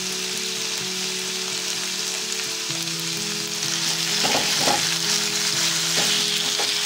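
Tomato paste fries in a pan alongside meat, giving a steady close sizzle with a faint hum underneath and a few clinks of stirring near the end, with no voices.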